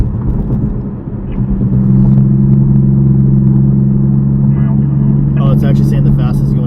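A loud truck engine rumbles steadily on a road at night in Bakersfield, California, a deep continuous drone that swells after the first second and holds, with faint higher clatter near the end and a voice talking over it.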